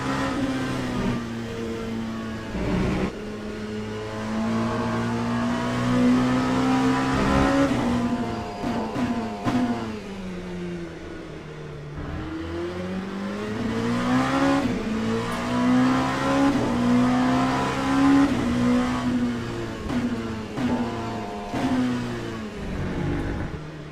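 A race car engine revs and shifts continuously through corners in the Le Mans Ultimate racing game, with pitch rising and falling between gears and occasional tyre scrub, loud and steady with no talk.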